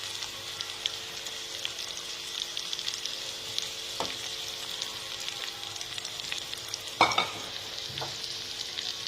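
Eggplant frying in a bubbling onion-and-spice tempering, giving a steady, even sizzling hiss throughout, with a couple of faint utensil clicks and no voices.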